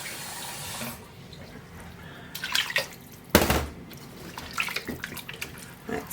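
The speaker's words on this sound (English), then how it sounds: "I'm going to add a little bit more water to this because it is going to slow cook" Water pours and splashes into a slow-cooking pot in a kitchen, a steady close trickle with a louder gush midway and scattered drips and sloshes afterward.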